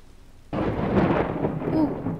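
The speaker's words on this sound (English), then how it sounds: "Lightning. We just had lightning." A lightning strike lands in the video game Worldbox, a sudden loud crack followed by a dense, rumbling thunder roll that continues steadily to the end of the clip.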